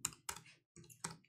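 Keystrokes on a Raspberry Pi 400's built-in compact keyboard, a few quiet, sharp clicks in two short bursts separated by a brief pause, heard alone at some distance.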